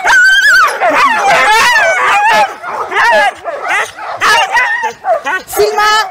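Sled dogs waiting while teammates are harnessed at a morning training session, loud and close, yipping, barking and whining excitedly in overlapping bursts throughout.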